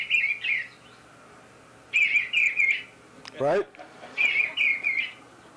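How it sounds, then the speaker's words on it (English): Real bluebird singing, short bursts of warbling chirps repeated in phrases with gaps between, fairly clear and close, with a brief spoken word in the middle. "Here's a real bluebird."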